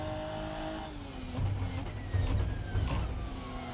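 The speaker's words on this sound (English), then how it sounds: "Every time I start locking up these tires" A Ginetta G55 GT4 race car in Assetto Corsa at Donington Park runs with a steady engine whine that shifts in pitch. Several short bursts of tire noise from locking brakes rise over the engine near the end.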